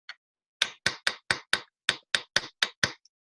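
Eleven sharp, evenly spaced hammer strikes on metal during chasing and repoussé work, close and loud, following one lighter tap, with no voices.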